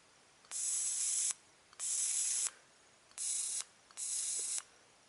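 An Atomic plasma lighter fires its electric arc four times in a row, each burst a close, steady, bright buzzing hiss lasting under a second, with brief quiet gaps and small clicks between.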